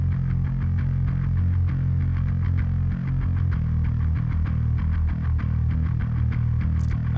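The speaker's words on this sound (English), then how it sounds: "from the Metal Amps pack, and it's the Birthquake bass amplifier." Bass guitar played through the Birthquake bass amplifier plugin from a Metal Amps pack, giving a thick, distorted low-end tone with steady picked notes throughout, loud and continuous with no talking.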